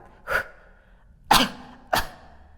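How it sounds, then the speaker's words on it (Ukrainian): Three short, forceful coughs from a person lying with legs raised during a transverse abdominal muscle exercise, one single then two close together, loud and near with quiet breathing between. "спробуйте зараз просто покашляти."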